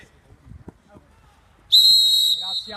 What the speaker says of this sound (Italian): Fallo fischiato qui e subito battuto sul numero 8 Melis